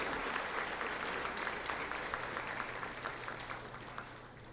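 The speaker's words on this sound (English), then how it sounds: "Another round of applause, please, for our PTC Highest Academic Achievement Award winners." A seated audience at a school academic awards ceremony applauds honor winners, with a sustained, even wash of clapping from a mid-sized crowd that eases slightly toward the end.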